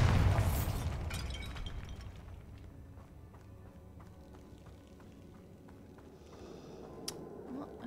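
A Bombarda spell explosion in Hogwarts Legacy, a loud burst at the start that fades into scattered pops, footsteps and light crackles, with a small sharp snap near the end.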